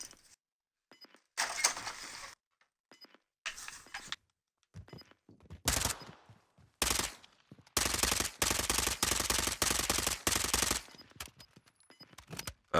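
Gunfire from an ISO weapon in a video game, coming in repeated bursts of rapid shots of varying length with short silent gaps, the longest sustained stretch near the end.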